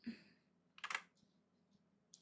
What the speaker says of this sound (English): Doing taps on the keyboard.